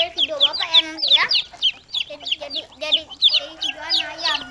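Chicks and chickens on a small backyard farm where eggs are hatched in a cardboard box peep and cluck in rapid, overlapping high calls close to the recorder, loud and continuous with brief pauses.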